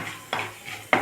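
Tempering spices fry in a pan for a Telugu curry with cucumber, drumstick and tomato, a soft sizzle punctuated by two sharp scraping stirs of a spoon against the pan.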